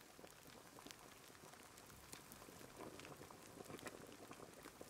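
Meat simmers in a pot in the video game Sons of the Forest, a faint, continuous bubbling with scattered small pops over several seconds.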